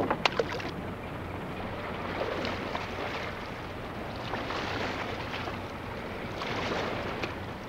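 Wooden fishing boat rowed back toward the Rhine riverbank by fishermen between catches; steady water and wind noise with faint irregular oar knocks, no voices.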